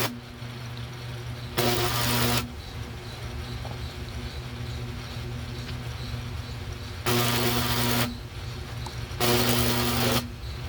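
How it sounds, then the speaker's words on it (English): A welder joins two pieces of metal while building a landscape rake, producing three bursts of bright, buzzing crackle of about one second each, set against a steady mechanical hum. "So I'll just continue welding this until I have everything welded up."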